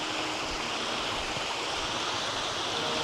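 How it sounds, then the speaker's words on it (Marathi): A rain-swollen stream runs behind a village house in rural Konkan, a steady, close, even rush of flowing water with no voices. "इकडे मस्त वहाळ आहे, पर्या आमच्या घराच्या मागून जातो"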